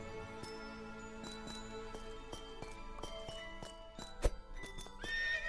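A horse in the Minecraft video game, with repeated, evenly spaced clip-clop hoofbeats followed by a sharp whinny, then a louder burst of game noise at the end, nearby and without speech.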